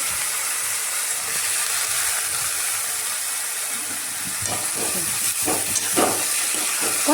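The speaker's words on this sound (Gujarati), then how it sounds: "છણાટી બોલી ગઈ" Hot oil sizzles and hisses steadily as a tempering is made for spinach bhaji in a home kitchen, with sharper crackling bursts and spatters building toward the end.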